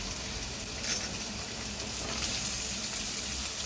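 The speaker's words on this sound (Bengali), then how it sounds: "পেঁয়াজটা একটু হালকা করে ভেজে নেব" Onions frying lightly in a pan while cooking restaurant-style mixed fried rice, giving a steady soft sizzle and hiss that stays even throughout, with no talking.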